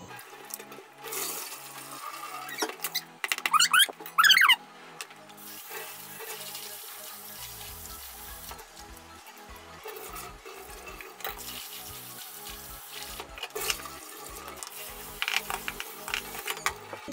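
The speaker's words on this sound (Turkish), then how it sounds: "Suyun bulanıklığı geçene kadar iyice yıkıyoruz." Husked wheat for ashure is rinsed by hand in water, giving intermittent splashing, sloshing and swirling sounds with a few louder pours, close and without talk.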